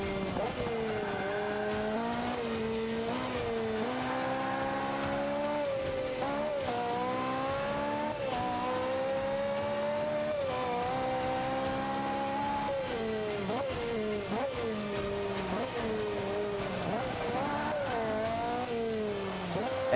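A Ferrari race car in the Forza Motorsport 5 racing game gives a loud, continuous engine whine that climbs and drops repeatedly through gear changes for the whole stretch.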